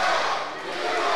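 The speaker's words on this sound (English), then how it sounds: "We have the crowd chanting for him." Wrestling crowd at an independent UPW show in Santa Fe, Texas, chanting in unison for a wrestler: a dense, sustained roar of many voices that holds steady loud throughout.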